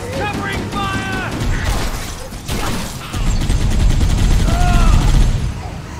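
Rapid gunfire in the sci-fi shooter Halo: Combat Evolved, close and loud, layered with mechanical clatter and battle noise while voices shout over the fight.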